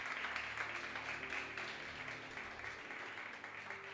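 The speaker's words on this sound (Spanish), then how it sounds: "Dele un aplauso al Señor." A church congregation gives a soft, distant round of applause, a continuous low patter of many hands that stays steady and faint.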